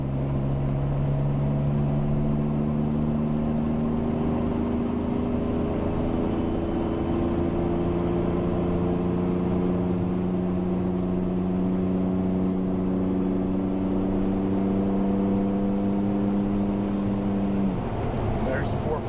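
A car engine on a dyno, driven at about 41% throttle through an aftermarket transmission control module, climbing steadily in pitch through gears with a clear drop at each shift, a loud close drone with a voice speaking over it.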